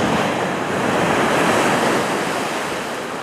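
Ocean surf rolls onto a beach at night near high tide, a steady, loud, continuous wash of breaking waves with a touch of wind and no voices.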